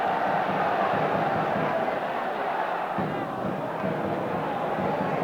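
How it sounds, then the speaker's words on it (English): A big football stadium crowd roars with delight after a save at a QPR v Manchester United style league match, a dense sustained cheer filling the ground while a commentator talks over it. "the crowd couldn't be more delighted at that end of the field"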